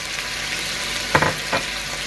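Garlic-ginger paste fries with chicken in a pan for a degi korma, giving a steady close sizzle with two brief bursts of louder spattering as it is stirred.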